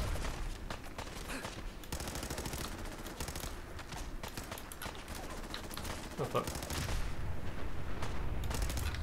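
Gunfire in Fallout 4 with an Arabian desert quest mod, shot bursts firing steadily across the stretch and rising louder near the end, with a voice talking over it.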